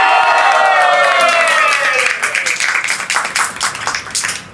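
An audience at a devotional talk on the Jagannath Puri pilgrimage breaks into a burst of dense clapping that thins into scattered claps, with a voice speaking over the start.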